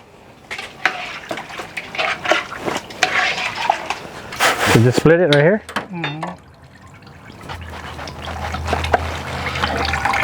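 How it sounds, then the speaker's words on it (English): Water splashes and trickles into a cooking pot at an outdoor kitchen while kare-kare with oxtail and peanut butter is prepared; a person talks over the pouring, which fades into a low steady rush. "Now you can add a little bit water on it."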